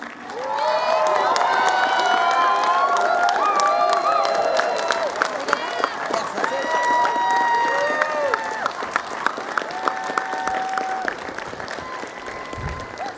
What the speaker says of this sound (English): a round of applause for everyone, especially my fellow scholarship class members